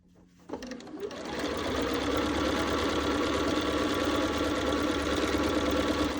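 Sewing machine stitching quilt block pieces together, starting after a quiet moment and then running at a steady fast rhythmic whir, close and continuous.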